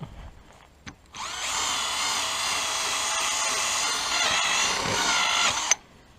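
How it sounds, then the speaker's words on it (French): A power sander works on the front headlight lenses of a Renault Clio 2 being restored, giving one steady, loud, high whine that starts after about a second and runs for several seconds before cutting off sharply. "Et après, ponçage."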